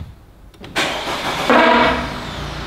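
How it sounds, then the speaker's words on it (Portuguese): An Audi engine cranks and starts, then a loud, sustained honking drone rises from a vuvuzela fitted in its dual exhaust, steady and close. "Vamos entrar ali, vamos dar uma partida, vamos ver o jeito que tá o barulho."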